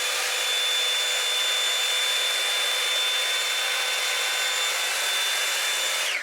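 A Revlon Air Straight hot-air straightener blows in a steady, loud, unbroken whoosh with a high whine while drying a section of thick curly hair, running alone without any talking.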